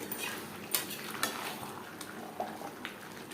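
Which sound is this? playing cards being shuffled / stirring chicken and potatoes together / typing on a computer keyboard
stirring chicken and potatoes together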